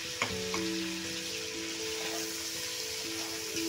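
Ginger, garlic, green chili and black pepper paste frying in a pan, a steady low crackling sizzle with a few sharp utensil clinks and a faint ringing tone throughout, no voices.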